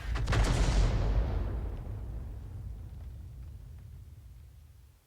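M53/M55 self-propelled artillery in a tank video game firing a shell: one deep, loud cannon blast right at the start, then a long rumbling decay fading over several seconds.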